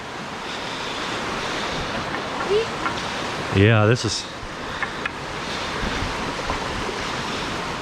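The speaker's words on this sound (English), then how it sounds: "I think right here we're on top of the waterfall." Rushing water at the top of Falling Water Falls near Chattanooga, Tennessee, a steady broadband wash mixed with wind buffeting the microphone, while people talk briefly and a short louder burst sounds in the middle.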